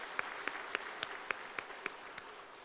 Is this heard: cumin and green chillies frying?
no